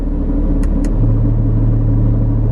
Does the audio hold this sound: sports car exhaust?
yes